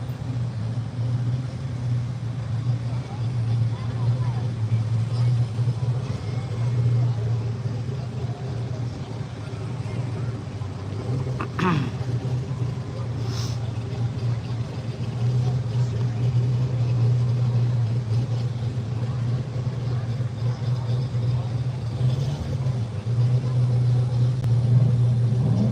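A 5th gen Camaro and a C7 Corvette idle and rumble at a drag strip, a steady low engine drone holding throughout with a brief louder surge near the middle and faint crowd voices.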